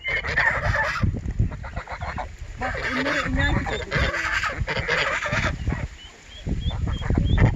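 Village geese, ducks and turkeys honk and gabble loudly nearby in repeated bursts, with people talking between the calls.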